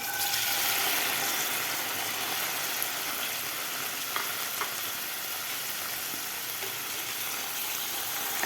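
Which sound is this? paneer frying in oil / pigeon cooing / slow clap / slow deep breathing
paneer frying in oil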